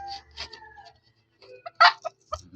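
A Texas-breed mestizo rooster clucking and calling close by in short bursts separated by brief silences, with no one speaking.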